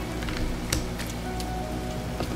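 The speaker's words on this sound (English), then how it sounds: "Although it's raining" Steady rain patters on surfaces in No Man's Sky, a constant soft hiss with occasional sharper drops ticking through, no voices over it.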